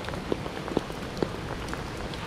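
Heavy rain hisses steadily on a mountain road lined with tunnels. A few louder drops tap close by over the dense wash.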